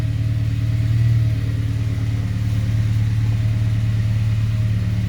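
An Acura RSX Type S, just repaired for a third-gear grind and pop-out, drives a quick test lap, its engine a steady loud droning rumble with slight swells in revs, alone without talk.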